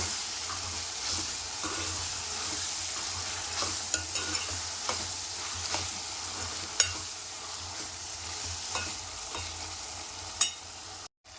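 Radish and tomato curry with chili powder cooks in a pan, a constant soft sizzle broken by scattered scraping and clinking as a spoon stirs it now and then.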